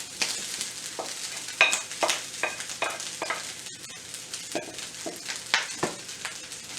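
Shrimp going into a hot frying pan for fried rice, sizzling steadily with repeated scraping, stirring clatters close by, no talk.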